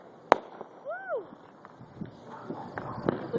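A sharp firework crack is followed by rising whistling streaks and a scatter of smaller pops and bangs, moderately distant, with faint voices around.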